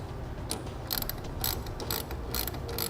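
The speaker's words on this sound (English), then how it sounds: "then we can tighten down our clamps" Quick, faint ratcheting clicks come in short bursts as clamps are tightened on a TruXedo TruXport soft roll-up tonneau cover, heard close up with no talking.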